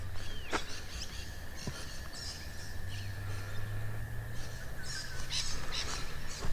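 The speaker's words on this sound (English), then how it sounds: "the birds are having a bit of a sing this morning" Birds sing on a morning after light showers in a rural Australian backyard, with scattered chirps and trills in the distance over a steady hiss of background noise.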